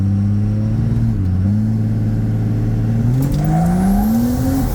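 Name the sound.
1000 hp compound turbo Cummins diesel truck launching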